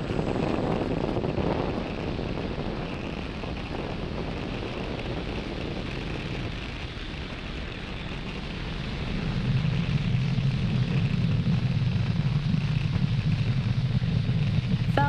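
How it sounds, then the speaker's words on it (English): Falcon 9 rocket lifting off from Pad 40 at Cape Canaveral Space Force Station, carrying the ispace lunar lander: a steady, distant broadband roar and rumble that swells louder about two-thirds of the way through. "Falcon 9 has successfully lifted off from Pad 40 at Cape Canaveral Space Force Station"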